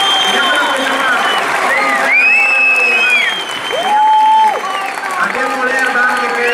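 A grandstand crowd at a Ferrari Day event applauds loudly and continuously, with a voice speaking over the clapping and a few whistle-like tones rising through it.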